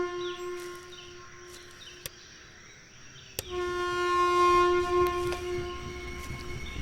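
A train approaches in the video game INFRA, sounding a long sustained horn that swells louder after a sharp click, with metallic ringing tones over a low rumble and no talking.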